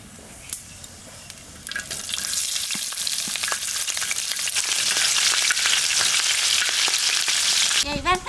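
Black cumin seeds and green chillies hit hot oil in a pan, bursting into a loud, steady sizzle that holds for several seconds, with a few faint clinks early on before the frying swells.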